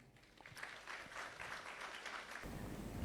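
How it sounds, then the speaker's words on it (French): Audience applause at the formal opening ceremony of a regional customs experts' meeting, welcoming the director general of Mali's customs to the podium; steady clapping across the hall that rises and holds, with a louder low rumble near the end. "Sous vos applaudissements."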